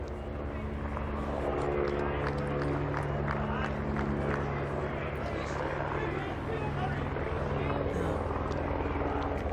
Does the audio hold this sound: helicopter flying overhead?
yes